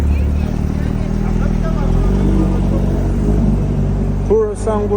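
A Porsche 911 GT3 drives past on a London street with a steady engine rumble under busy city traffic noise, while people talk nearby.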